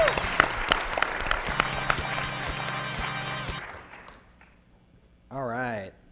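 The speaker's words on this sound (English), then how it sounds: "Everybody, round of applause for Denise." Audience applause at a podcast's live lightning talks, a burst of clapping with music that fades out, followed after a pause by a loud buzzer.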